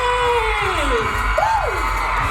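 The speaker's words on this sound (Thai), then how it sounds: "ขอเสียงปรบมือต้อนรับนะคะ" A live audience cheers and whoops to welcome the actors at the launch event for the Thai series A Chance To Love 2, a sustained loud crowd roar with rising shouted voices.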